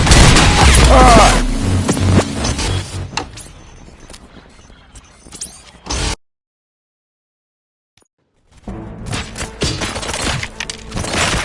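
Gunfire in the video game RoboCop: Rogue City, with loud booming shots and shattering impacts in a dense burst at first, fading out, then a silent gap before more game noise resumes.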